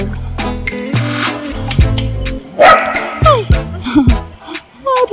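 A dog barks repeatedly and loudly up close in short, uneven bursts, with some yips and whiny notes between them.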